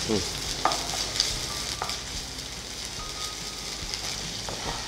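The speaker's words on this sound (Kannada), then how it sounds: "ಈಗ ಇದಕ್ಕೆ ಸ್ವಲ್ಪ ಬೆಳ್ಳುಳ್ಳಿ ಶುಂಠಿ ಪೇಸ್ಟ್. ಓಕೆ. ಅದು ಸ್ವಲ್ಪ ಎಣ್ಣೆಯಲ್ಲೇ ಫ್ರೈ ಮಾಡ್ಕೊಳ್ಳುವ" Ginger-garlic paste sizzles in hot oil in a pan, a continuous even frying hiss close by with a few faint stirring clicks.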